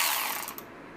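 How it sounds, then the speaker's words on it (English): A Milwaukee M12 cordless 3/8-inch ratchet runs in one brief, close mechanical whir that tapers off within a second. "The cordless ratchet. Let's see what that'll do."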